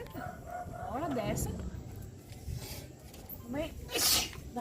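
Repeated sneezing from people standing in a street at night, several sharp bursts spread across the stretch, mixed with a dog barking and yipping nearby and people talking throughout.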